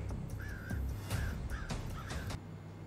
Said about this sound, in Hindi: कौवा काऊ काऊ कर रहा है।